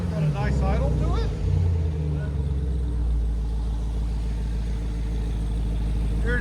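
A Jeep Trackhawk with a 6.2L supercharged V8 and aftermarket exhaust idles steadily with a deep, low rumble, close and constant, with a voice speaking over it near the start.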